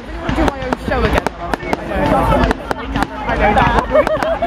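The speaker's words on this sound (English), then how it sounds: "Firework." Fireworks crack and pop repeatedly at a bonfire night display in Platt Fields Park, Manchester, sharp bangs scattered every half second or so over a busy crowd with people talking nearby.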